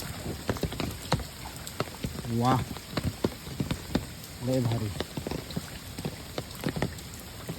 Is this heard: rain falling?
yes